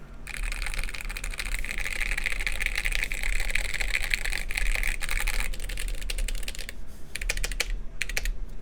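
Steady, close-up typing on a mechanical keyboard fitted with Gateron switches, keys struck firmly enough to bottom out, a continuous rapid clatter with a brief pause near the end and no talking.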